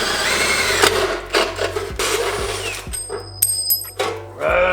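A drill bores a hole in the bottom of an aluminum catch can in a garage, with several loud whirring bursts that start and stop, ending in a brief high whine.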